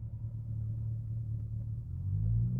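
Straight-piped C5 Corvette idles with a deep, throbby exhaust rumble close by, steady at first and then swelling slightly louder and lower near the end, with no voices.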